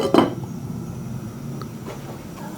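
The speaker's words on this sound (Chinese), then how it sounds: "盖上锅盖焖半个小时" A lid goes onto a pot of stewing pork ribs with a single short metallic clink near the start, followed by a soft, steady background hum.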